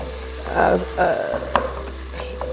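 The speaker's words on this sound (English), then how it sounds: "cook it like this to let the aromas out" Ingredients for kuku paka, an East African chicken in coconut curry, sizzle and fry in a pan while being stirred, with a few louder scrapes close by and no talking.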